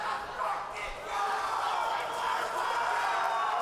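Fight crowd at a caged MMA event cheering before the Thomas Johnson Jr. bout, a dense, moderately distant roar with shouts rising and falling, steady through the whole stretch.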